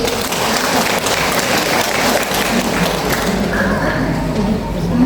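Loud audience applause at a church Christmas celebration, dense clapping with thumps and a murmuring crowd throughout the short burst.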